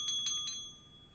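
Small hand bell rung in three quick clusters of bright, ringing tones with a sustained shimmer that lingers and slowly fades, close and fairly soft, no voices.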